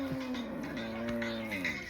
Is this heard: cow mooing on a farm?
yes